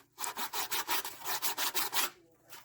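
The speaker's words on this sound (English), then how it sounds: "Can't do all this like that by hand with this piece of sandpaper." Sandpaper rubbed by hand over a car part on a 1964 Comet that sat for 23 years, a close, steady back-and-forth scraping of about a dozen rhythmic strokes, then a pause.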